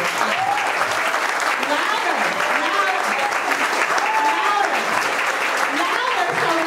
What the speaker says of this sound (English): So clap it up. Louder, louder, louder.